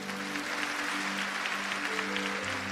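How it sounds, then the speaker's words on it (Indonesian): A church congregation applauds during a sermon on divine healing. The clapping is steady and dense throughout, with a low hum of sound system or music beneath. "Yang percaya kasih tepuk tangan dulu"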